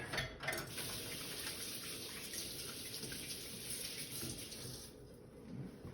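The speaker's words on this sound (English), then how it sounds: "Wash my hands real quick." Hands are washed under a running kitchen tap, a steady close hiss of flowing water with a brief splashy start and no talk.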